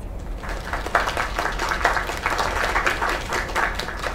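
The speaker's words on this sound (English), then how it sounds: "Another round of applause." Applause from an audience in an animated show after a song, a steady patter of many hands close up, swelling after a brief start and holding for about four seconds.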